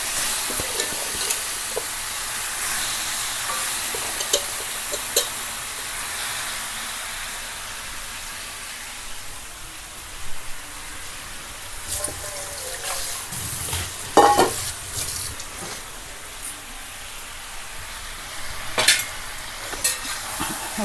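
Chicken pieces coated with salt, lemon juice and turmeric frying in a hot pan for pepper chicken fry, a steady sizzle with occasional stirring scrapes and clinks, close and alone.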